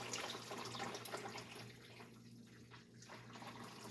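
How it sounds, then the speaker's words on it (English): Water pouring into a soup pot for zucchini soup, a steady rushing splash that starts strong then softens slightly as it continues, quiet and close. "I'm going to pour the water in here now so this can all boil."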